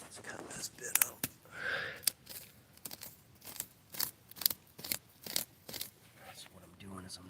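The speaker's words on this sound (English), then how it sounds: "I'm just cutting a groove since I don't have my tripod" A blade cuts a groove into wood outdoors, giving a string of quiet, scratchy scraping and slicing strokes in irregular bursts, close and soft, with no talking.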